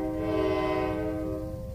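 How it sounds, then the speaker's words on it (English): A passing train sounds one sustained horn blast just outside an office; the tone swells, then fades over under two seconds. "There's also a train right outside my office right now."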